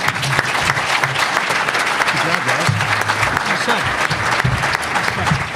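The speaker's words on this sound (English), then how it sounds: "Please join me in applauding our panelists." Audience members at a business forum applaud panelists, sustained, dense clapping from a sizeable room, with voices murmuring under the applause.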